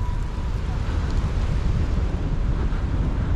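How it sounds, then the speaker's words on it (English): Low rumbling wind buffeting the microphone outside a shopping center in Orlando, Florida, constant and fairly loud, with no clear voices over it. "It's really windy today."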